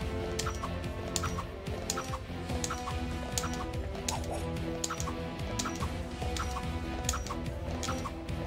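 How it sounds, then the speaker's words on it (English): Birds cluck in the Ys: The Oath in Felghana video game, giving soft, steady, evenly spaced clucks and ticks over a constant low background hum. "There's birds."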